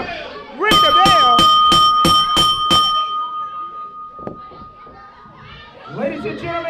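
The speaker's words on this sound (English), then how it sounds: "Ring the bell." A wrestling ring bell clangs in a rapid run of about seven strikes at a live event, ringing out loudly over a noisy crowd with children shouting, followed by an announcer's voice.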